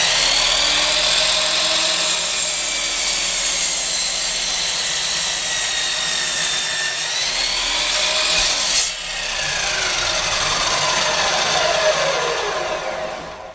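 A Harbor Freight 12-inch double-bevel sliding compound miter saw cuts through heavy oak, the motor's loud steady whine and blade rasp continuing close-up, shifting pitch partway as the cut proceeds, no talking.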